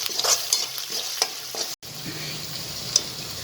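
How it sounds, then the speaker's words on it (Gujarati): Asafoetida with crushed ginger and chilies sautés in a pan with a steady close sizzle, broken by scraping stirs and one brief dropout. "હવે આને લગભગ અડધો મિનિટ માટે આપણે સાતળી દઈશું."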